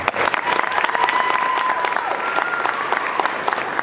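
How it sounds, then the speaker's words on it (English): Applause from a school holiday band concert audience, dense steady clapping throughout with crowd noise, loud and close, a few voices faintly underneath. "One more round of applause for clarinets."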